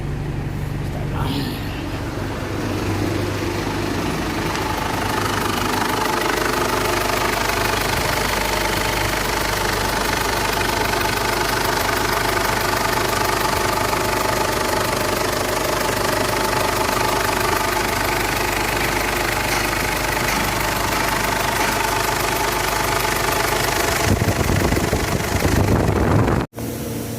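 Car engine idling after starting, with a number 3 cylinder misfire and loss of power: a steady, loud mid-pitched running drone with rough knocking vibration for about 25 seconds before cutting off abruptly.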